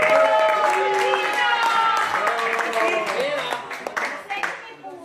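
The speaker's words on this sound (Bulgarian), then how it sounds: "за което ще чуем силни аплодисменти" Applause from a crowd at a family party with a magician, steady at first and thinning out toward the end, with scattered cheering over the clapping.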